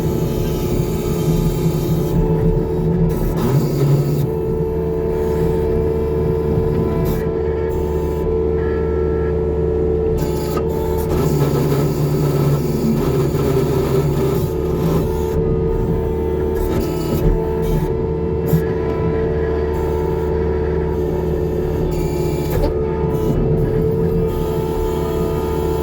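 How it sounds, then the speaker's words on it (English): A steady hum and whine from the hydraulic pump of a skid steer with a tree shear attachment while its jaw opens, droning continuously with a noisy mechanical hiss. "Makes a little noise when you're opening the jaw for some reason. Back there in my pump."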